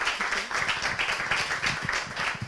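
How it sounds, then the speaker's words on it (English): Audience applause at a conference session on motherhood and politics, a dense, steady wash of clapping from a crowd with no break. "A round of applause."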